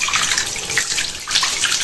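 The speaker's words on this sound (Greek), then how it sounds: "Μαύρο νερό αναφλύζει από τις βρύσες στο Δομένικο Ελασσόνας" Dark, discoloured water runs from household taps in the village of Domeniko near Elassona, Greece, a loud, continuous splashing gush close up with no voices.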